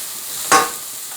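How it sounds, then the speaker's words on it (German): Chopped onion hitting sunflower oil in a preheated pan, a single sharp burst of sizzling that quickly fades to a low steady hiss. "Jetzt machen wir uns die Zwiebel rein. Dann ein bisschen Öl rein. Sonnenblumenöl."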